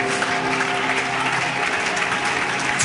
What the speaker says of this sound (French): Acclamons royalement pour la parole de Dieu.